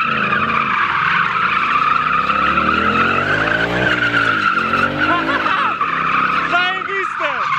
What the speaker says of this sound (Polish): Lepiej palić gumę niż fajki